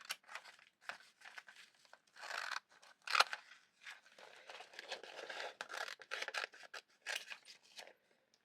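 Close, quiet snips and crinkles of scissors cutting a picture of an armchair out of a paper magazine, irregular cuts with rustling paper in between.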